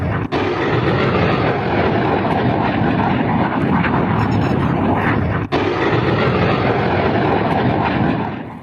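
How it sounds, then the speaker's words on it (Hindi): Continuous loud roar of a Pakistani fighter jet passing over trees, a dense sustained rumble for several seconds with two brief dips, no voices. "पाकिस्तान का लड़ाकू विमान आप देख रहे हैं, ये जो पेड़ के ऊपर आपको जाता नजर आ रहा है, ये पाकिस्तानी फाइटर है"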